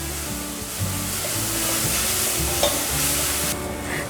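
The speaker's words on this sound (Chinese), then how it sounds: "现在放入金针菇， 快速的翻炒。" Enoki mushrooms stir-fried quickly in a pan after shiitake stems for a vegan home-style dish, giving a steady, close sizzle with constant scraping and tossing of the spatula throughout, no talking.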